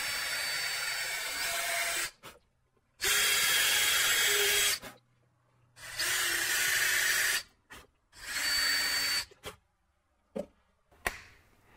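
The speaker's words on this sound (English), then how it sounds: "Now I'll drill a pilot hole for the screws." A power drill whirs into wood, drilling pilot holes for screws in several bursts, each a few seconds long, separated by short pauses and small clicks.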